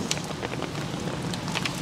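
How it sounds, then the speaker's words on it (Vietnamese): Rain falling steadily outdoors, a soft continuous patter with scattered drop hits, moderate and unbroken with no voices. "quá mưa."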